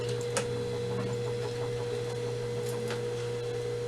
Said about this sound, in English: once again I'm using my hands and on the wheel instead of pedaling, because I don't want to go overboard with this. And then back stitch.